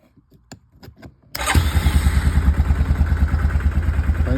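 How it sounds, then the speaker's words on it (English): A Yamaha Kodiak 450 ATV that had trouble starting: a few clicks and short cranking bursts, then the engine catches and settles into a loud, steady, throbbing idle close by. "Cranks up and runs."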